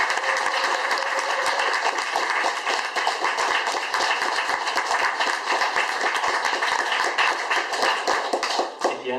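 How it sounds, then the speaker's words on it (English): A crowd at a magazine launch party for Eleven Eleven's fifteenth issue claps in a loose, fairly close round of applause, individual hand claps audible within the wash, fading slightly near the end. "Big round of applause for everybody."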